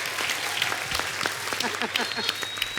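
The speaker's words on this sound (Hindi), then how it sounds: "जोरदार तालियां हो जाएं उनकी मिसेज के लिए भी।" Applause from a comedy show studio audience welcoming a guest's wife, a fairly quiet patter of clapping with scattered sharper claps and a few voices mixed in.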